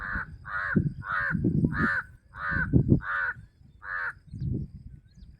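A crow caws seven times in a steady, evenly spaced run, loud and close over a farm field, with low rustling and murmured background sound between the calls.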